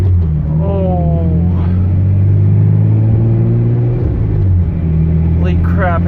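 A BMW E34 car drives along with a steady low engine rumble and rising revs, heard from inside the cabin, with occasional voices over the hum.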